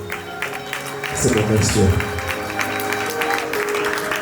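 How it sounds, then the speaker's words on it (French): Wedding guests at an evening reception clapping loudly, a dense burst of applause swelling in the middle under someone speaking over a microphone. "Est-ce que vous pouvez applaudir très très fort pour ces"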